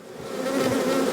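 Bees buzzing in a dense, continuous hum, loud and close, with no voices.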